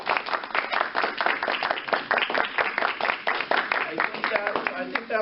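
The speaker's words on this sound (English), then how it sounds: "Let's give him a round of applause." Audience applause for an interviewee at a Scouting heritage event, a dense run of close, overlapping hand claps that holds steady throughout, with voices mixed in.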